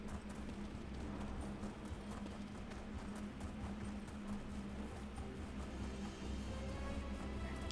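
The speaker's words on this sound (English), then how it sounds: "Just remembered I've got a horse." Horse mount galloping in The Elder Scrolls Online, a steady rhythmic clip-clop of hooves running continuously over a low game ambience, with a brief spoken word at one point.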